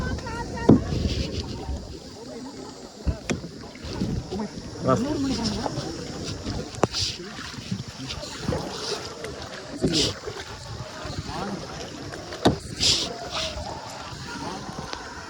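Kayaks glide across the water of Ha Long Bay with scattered paddle splashes and knocks, light wind noise and people talking throughout.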